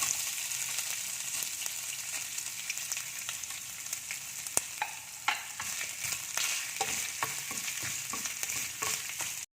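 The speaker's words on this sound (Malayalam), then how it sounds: "നമുക്കതിലേക്ക് തേങ്ങ ചെറുതായിട്ട് അരിഞ്ഞത് ഇട്ട് കൊടുക്കാം. വറുത്തെടുക്കാം." Chopped coconut pieces frying in hot ghee for parippu payasam, a dense continuous sizzle close by with intermittent clinks and scrapes of stirring.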